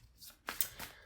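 Tarot cards shuffled by hand in a few short, papery riffling bursts, faint and close, with no talking over them.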